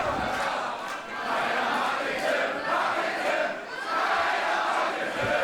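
Wrestling crowd at a GWF show roaring and cheering in a steady, dense wash of voices that swells and dips slightly, with no clear commentary over it.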